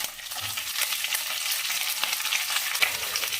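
Onions sizzle and crackle steadily in hot oil with green chillies and curry leaves for a Karnataka pumpkin palya, a close, continuous frying hiss with faint stirring, no voices.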